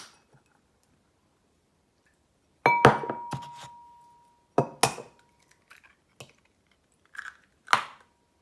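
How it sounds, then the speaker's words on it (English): Four eggs are cracked into a bowl in a home kitchen, a series of sharp clicks and shell cracks with brief drips, each sharp and close, separated by quiet pauses. "So just pop in 4 eggs."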